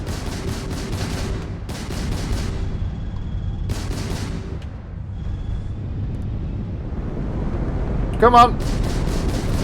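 Bursts of rapid automatic gunfire at a ballistics range in Starfield, several loud sustained volleys separated by short pauses, with a sharp electronic whine near the end; a voice speaks briefly.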